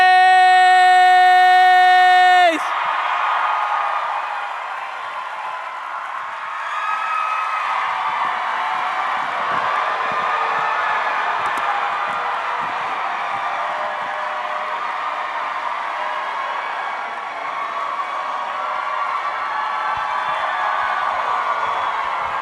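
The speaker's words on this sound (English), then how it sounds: "Let's give a huge round of applause, everybody, for Elijah Wood, Dominick Monaghan, Billy Boyd, and John Rhys Davis!" A large convention crowd applauds and cheers for Lord of the Rings cast members at a fan panel, a steady wash of clapping and whoops that follows a brief tonal musical sting and holds at an even level throughout.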